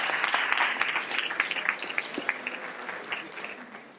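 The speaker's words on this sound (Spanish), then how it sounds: "le damos un aplauso a lo que viene" A crowd applauds steadily, dense clapping that is loud at first and gradually thins and fades.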